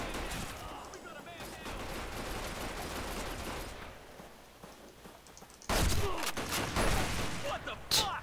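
Gunfire in the Arctic Combat shooter game, with dense bursts of automatic fire through the first half, a quieter lull, then loud, close shots and rapid volleys near the end.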